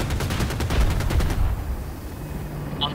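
An Apache attack helicopter's cannon fires a rapid burst of evenly spaced shots in Battlefield 2042, loud and close, then stops and gives way to low engine rumble.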